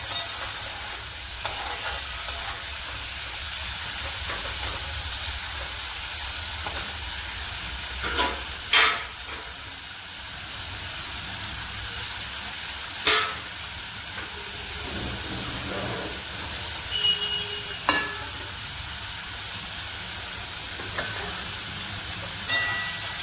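Tomatoes and spice masala fry in a pan with a steady soft sizzle, broken by occasional stirring scrapes and clinks, heard close and fairly quiet with no talking.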